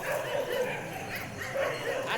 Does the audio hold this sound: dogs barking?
yes